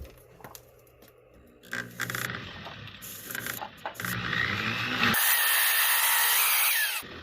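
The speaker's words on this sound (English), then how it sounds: "I'm going to use the little cutting tool again." A small cutting tool saws through the handle of a sterling silver spoon, first in short scraping bursts, then as a steady, loud, high-pitched continuous whine up close, with no talk.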